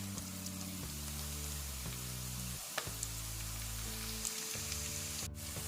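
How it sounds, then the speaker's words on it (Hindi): Spices frying in a pan for daal makhni, a steady soft sizzle and crackle running throughout, faint and alone with a low hum beneath. "मसालों को हमने जलाना नहीं है, बस जैसे 1 मिनट 1/2 मिनट तक इसको बस पकाना है।"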